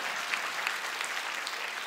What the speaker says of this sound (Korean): 박수를 치시려면 확실히 치시고